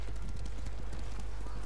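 Horse hooves clopping in the Ghost of Tsushima video game, a steady rhythmic clip-clop at moderate distance over a low droning background bed.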